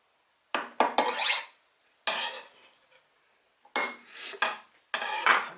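A utensil mixes meat and onion in a dish, scraping and clinking against it in four separate bursts of stirring, close by, with short silent gaps between them.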